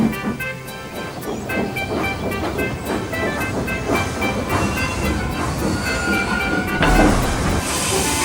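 A steam engine backs slowly down the line, dropping sand on the rails and rolling it firm under its wheels, with a steady loud rumble, hissing steam and rhythmic clicking of wheels over rail joints throughout.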